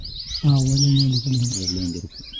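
A loud, throaty rufous treepie call with rich ringing harmonics lasts about two seconds, while high twittering from other birds continues in the background in the Periyar Tiger Reserve jungle at Thekkady.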